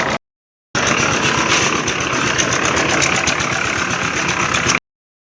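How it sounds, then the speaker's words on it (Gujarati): A loaded cart vehicle pulls away with its engine running, a steady, loud, close drone that holds unbroken for several seconds after a brief silence, with no voices. "અમારો રેકડો ભરાઈને જઈ રહ્યો છે"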